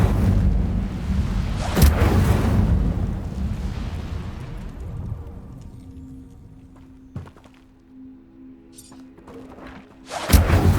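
Casting the Incendio fire spell in Hogwarts Legacy unleashes a loud whooshing blast with a heavy thump near the start, which fades into quieter game sounds before another sharp burst hits at the end.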